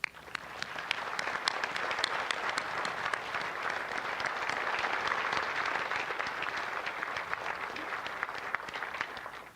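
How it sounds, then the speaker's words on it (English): A large audience at a Pearl Harbor Remembrance Day ceremony claps steadily for about ten seconds, a dense, even applause heard from some distance. "Please join me in offering a heartfelt round of applause."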